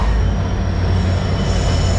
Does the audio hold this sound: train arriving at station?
yes